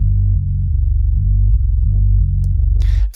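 Heavy metal bass played from MIDI through a sampled instrument, filtered to keep only the low end between 44 and 135 Hz. Deep, loud, throbbing notes follow a chugging rhythm with brief pauses, and a short burst of hiss comes near the end.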